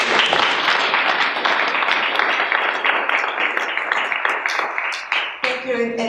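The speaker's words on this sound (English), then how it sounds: "Let's give her a round of applause." An audience at a district round table meeting claps steadily for several seconds, the applause fairly loud and even before a voice starts speaking over its tail.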